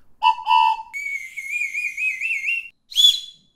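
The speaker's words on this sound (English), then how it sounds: "we have one last whistle, and it's actually a train whistle" A 3D-printed train whistle is blown close and clear in several short blasts, including a long wavering multi-tone note, with no talking over it.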